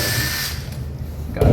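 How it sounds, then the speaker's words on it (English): Power drill reversing out of a freshly drilled hole in a cabinet door while installing knobs and pulls, a steady close whirring whine that holds evenly and then ends in a louder burst. "Reverse my drill."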